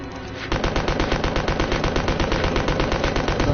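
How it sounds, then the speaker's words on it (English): Submachine gun fire in the PS4 game Resident Evil Code Veronica, a loud rapid burst of evenly spaced shots starting after a brief lead-in and continuing without pause to the end. "I'm forced to use the submachine guns"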